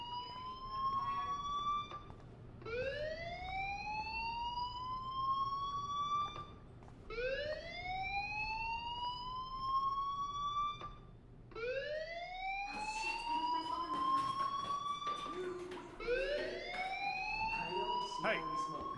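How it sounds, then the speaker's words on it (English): In the video game Life is Strange, a fire alarm sounds as a repeating rising electronic wail, cycling about four times at a steady pace. "do you hear that fire alarm? That means you should be outside."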